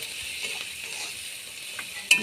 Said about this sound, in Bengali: এবার টমেটোটা দেওয়া হচ্ছে